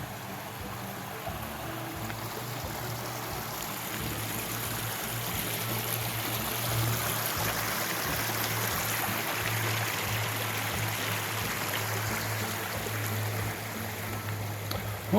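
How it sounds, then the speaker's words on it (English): A river flowing past modern concrete stepping stones near Bothal Castle, Northumberland, making a steady broadband rush and trickle that stays constant and fairly close throughout, with no voices. "What a nice looking river."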